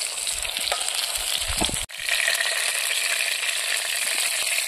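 Bottle gourd pieces fry in a hot pan, giving off a steady bright sizzle as they release their water, with a brief stirring scrape and a momentary break before the sizzle picks up again.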